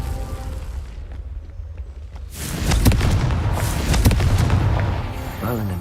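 The Confringo blasting spell bursts in Hogwarts Legacy, a loud sudden boom that rises after a quieter stretch and rolls on with crackling debris and a second swell, close and heavy.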